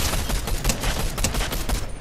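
Rapid gunfire in a shooter video game: loud, dense bursts of shots crackle one after another with barely a pause, filling the whole moment.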